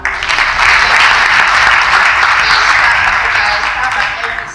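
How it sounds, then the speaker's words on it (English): Audience applause at a university event fills the space, a dense, steady wash of many hands clapping close and loud, sustained without letup before tapering slightly at the end. "Let's clap for her."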